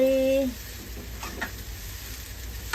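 Thai fried rice with egg being stir-fried in a pan gives a soft, steady sizzle with faint scraping throughout, after a brief tonal voice-like sound at the very start.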